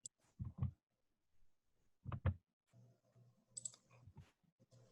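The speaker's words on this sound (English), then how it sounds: "I don't have mouse privileges though. Try clicking, Allison." Quiet, sparse computer mouse clicks during an online call, a couple of close double clicks followed by faint scattered clicking and soft background noise.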